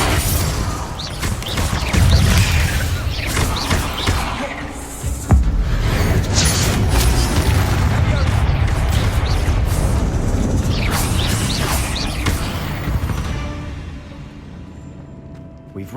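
Confringo blasting spells go off in the video game Hogwarts Legacy as a run of booming, crackling explosions and impacts, with a sharp burst around the middle, under a voice casting spells.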